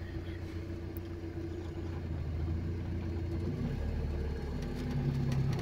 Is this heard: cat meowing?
no